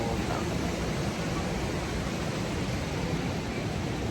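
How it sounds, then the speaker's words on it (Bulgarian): Spring water gushes in the Atlas Mountains as a steady, loud, broadband rush that does not change and has no voices. "Сега се чува една извираща вода"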